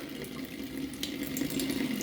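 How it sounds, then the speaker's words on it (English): Cold water runs from a tap into a container, a small amount for mixing wall filler: a continuous, fairly close splashing gush with no talking. "Make sure we put just a little bit of cold water in there."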